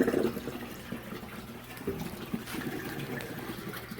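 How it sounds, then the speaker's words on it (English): Water drains down a tube into a swirl filter on a DIY backyard aquaponic system, a steady close trickling and splashing flow that continues throughout with no talking. "Water's draining down this tube."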